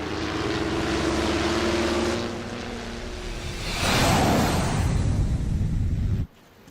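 An aircraft drones steadily overhead with a broad, roaring engine noise. It swells louder midway, then cuts off abruptly near the end.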